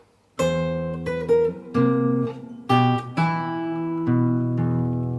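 An acoustic guitar plays the Harry Potter theme, bass notes plucked with the thumb under melody notes and two-note chords, in clear, close, ringing phrases with no talk.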